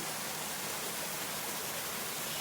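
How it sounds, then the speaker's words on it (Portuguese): A small stream flows along a forest trail, its steady, even broadband rush continuous and close, with no voices over it. "Olha o riacho. olha o riachinho,"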